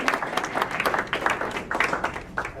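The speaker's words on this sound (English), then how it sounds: "do give everyone a round of applause for making it out tonight" An audience applauds at a Burlington Wards 4 and 7 city council candidates forum, with a steady patter of many hands clapping indoors, moderately loud and continuous throughout.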